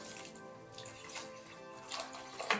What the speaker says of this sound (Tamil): ஒரு 1/2 கப் அளவுக்கு தண்ணி ஊற்றிக்கோம்மா